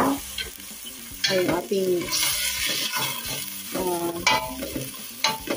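Basmati rice and split green moong dal poured into a pot for kitchari, with scraping, stirring and a light sizzle, close up, while a voice talks briefly over it.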